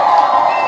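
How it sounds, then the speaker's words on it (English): A crowd applauds and cheers, a dense steady wash of clapping and voices, loud and sustained through the short moment. "So I'm going to give him a round of applause."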